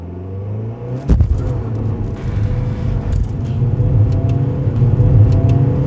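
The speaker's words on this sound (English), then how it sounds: "whether you'd expect a car like that to accelerate like this." A Volvo V40 accelerates hard from a standstill, its engine rising into a loud, sustained, building roar heard from inside the car, with a brief thump at the launch.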